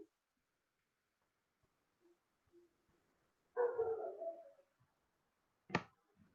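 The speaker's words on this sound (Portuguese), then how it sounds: "Tem um cachorro respondendo aí." A dog barks in an otherwise quiet room: one drawn-out bark, then a single sharp bark a couple of seconds later, both moderately close and heard alone.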